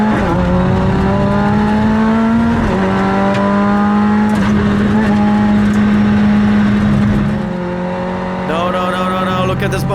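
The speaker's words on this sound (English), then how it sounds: "the engine is also sounding different" A Lotus Elise race car engine on the Mugello circuit drones loud and close from onboard, its pitch climbing and dropping through repeated gear changes with a rough, uneven faulty tone.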